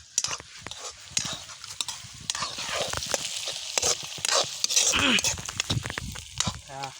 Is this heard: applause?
no